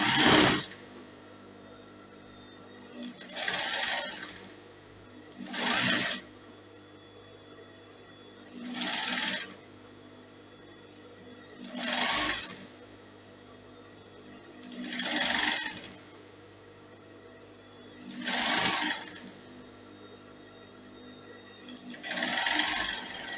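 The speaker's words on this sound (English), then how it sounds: "And then I'll sew, just sew it neatly to the end." A sewing machine stitches bias binding onto dress fabric in eight short, evenly spaced bursts, each a quick mechanical whir with quiet pauses between, close and clear with no talking.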